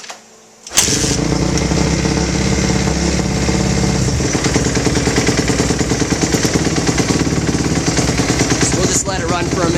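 A Kawasaki KX250F dirt bike fires up after an oil change and settles straight into a loud, steady, close-up idle with a fast, even engine throb that runs without a break to the end.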